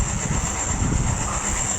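Train running across a Bangladesh route in the Trainz Simulator game, a steady, loud rumble with hiss and rolling rail noise throughout, no voices.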